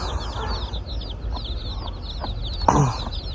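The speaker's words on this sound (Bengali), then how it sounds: "এই মুরগিটা নতুন 9টা বাচ্চা নিয়ে বেরিয়েছে মাসাল্লাহ।" A hen clucks beside her nine newly hatched chicks on a farm. Thin, rapid peeping runs throughout, and a louder, closer cluck lands near the end.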